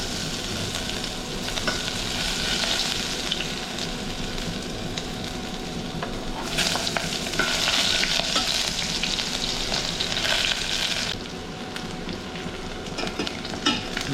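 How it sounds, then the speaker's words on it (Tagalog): Ginger fries in hot cooking oil with a steady, close sizzle that swells louder for a few seconds midway, then settles back, and no one talks. "init na tayo ng mantika dyan. Unahin po natin na yung luya."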